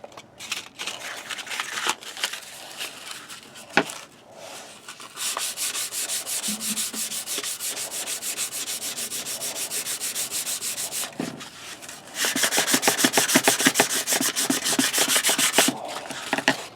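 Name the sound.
sanding a knife with 400 grit sandpaper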